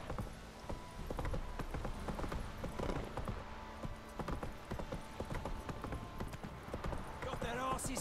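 Horse hooves clip-clop steadily at a walking pace in The Witcher 3, a close, regular rhythm of hoof strikes with a brief whinny near the end, heard under characters' dialogue.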